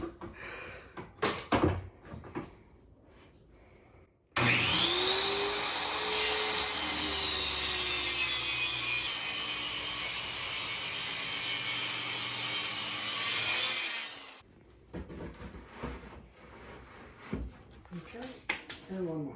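A power saw cuts on a makeshift workbench built from plastic totes, making a loud, continuous whining buzz for about ten seconds. Short bursts of talk and handling noise come before and after the cut.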